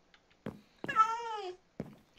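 A single drawn-out cat meow in the game Minecraft, with clear harmonics, bracketed by soft clicks or taps, heard alone and fairly close.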